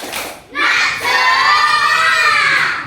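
Schoolchildren in a classroom shout together in a loud, sustained group cheer for the 'tepuk semangat' chant after a brief lull, their voices strong and continuous, with a few hand claps mixed in.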